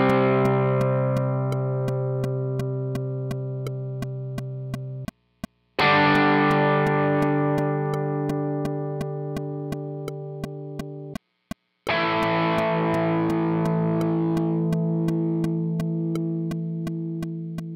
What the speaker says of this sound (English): I was just playing big whole notes to a click track